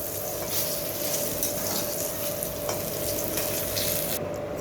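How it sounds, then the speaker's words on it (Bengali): Nigella seeds sizzle in a little hot oil, a steady, dense crackling hiss that runs evenly throughout with no voices. "তেলের মধ্যে সামান্য তেল দিয়ে দিয়েছি, সামান্য এক চিমটি কালো জিরা দিয়ে দিলাম।"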